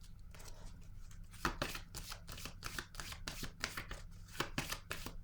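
Tarot cards are shuffled and drawn by hand in a steady series of crisp riffling flicks and slaps, close and alone, with no speech.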